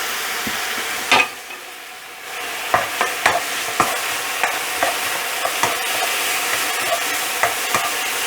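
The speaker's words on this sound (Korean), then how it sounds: "황설탕 한 스푼을 넣고 빠르게 볶아주세요. 고춧가루도 좀 넣어주시고요." Minced meat stir-fried quickly with soy sauce, brown sugar and chili flakes: a continuous close sizzle punctuated by regular, crisp spatula scrapes against the pan, one louder knock near the start.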